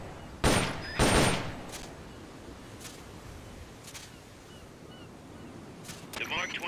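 Gunfire from the video game Metal Gear Solid Peace Walker: two loud, close shots in quick succession, followed by a few fainter sharp reports spaced across several seconds over a low rumbling background.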